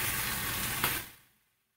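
Chicken frying in a pan for homemade chicken and Mexican rice gives a steady, close broadband sizzle with one brief louder crackle, then fades quickly to silence as the heat is turned down.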